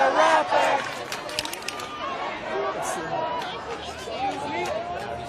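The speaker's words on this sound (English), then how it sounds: "It's a large, very large crowd." A very large street crowd chants and shouts, a loud, dense mass of overlapping voices and cheering that swells at the start, then settles into a continuous roar of babble.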